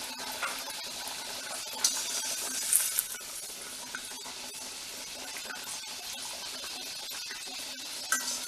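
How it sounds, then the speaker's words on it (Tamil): Paneer matar kachoris deep-fry in hot oil with a continuous fizzing sizzle and dense crackle. A few faint clinks of a utensil are heard close by, and no one speaks. "இதை நம்ம எண்ணெயில் போட்டு எடுப்போம்"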